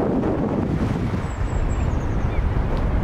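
Wind buffets the microphone at the Hamburg HafenCity waterfront, a loud, continuous low rumble and roar with a faint high whine passing in the background.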